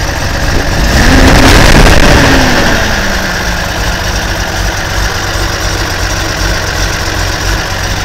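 A 1977 Datsun 280z with iron-coated headers and a K&N air intake cranks and catches, rising in a brief loud swell before settling into a steady, close, rumbling idle.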